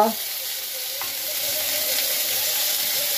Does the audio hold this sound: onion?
yes